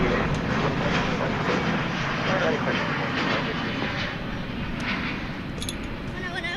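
At night near DFW Airport, an aircraft gives a steady broadband roar, loud and sustained throughout, with a faint chirp or two above it.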